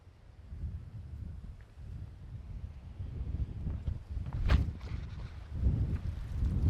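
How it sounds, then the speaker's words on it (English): Gusty wind on Goat Mountain buffets the microphone with low, rumbling bursts that swell and grow stronger toward the end, with no one speaking. "Wind here."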